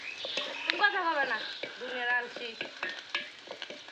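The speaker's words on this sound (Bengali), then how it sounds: "এই যে মাছ ভাজা চুষে মাছ ভাজা" Fish sizzles as it fries in a pan, a steady crackling hiss with occasional stirring and scraping sounds, while voices talk close by over it.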